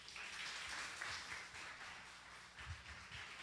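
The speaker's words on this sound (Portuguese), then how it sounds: "Aplauda o Senhor." A church congregation applauds after a prayer, a soft, steady spread of clapping heard from a distance, fairly faint and unaccompanied by speech.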